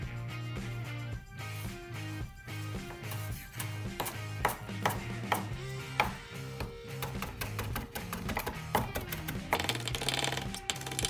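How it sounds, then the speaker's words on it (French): Knife finely chopping coriander leaves on a board, rapid rhythmic tapping strikes in quick bursts, close and clear, with a musical background underneath and no talk. "Ensuite, la coriandre, quelques feuilles qu'on hache finement."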